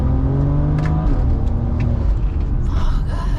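A street car's transmission on a drag tune shifts hard under acceleration: the loud engine drone climbs, then drops abruptly at the gear change and keeps pulling with a rough roar.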